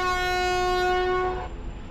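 Train horn in the Train Simulator Classic game, a loud steady chord held for over a second before cutting off, leaving low rumbling rail noise, with no talking.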